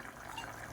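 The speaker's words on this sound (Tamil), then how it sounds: "தண்ணி நல்லா கொதிக்குது." Water boiling in a cooking pot gives a faint, continuous bubbling and soft liquid hiss, brief and steady, with no voices.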